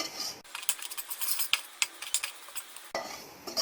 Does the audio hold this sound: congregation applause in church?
no